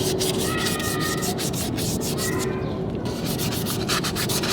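Car brake shoe linings of asbestos are abraded by hand in a continuous, close, loud rhythmic sanding scrape, with quick back-and-forth strokes and no speech.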